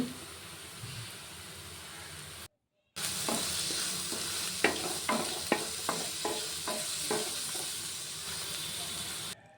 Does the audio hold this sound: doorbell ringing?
no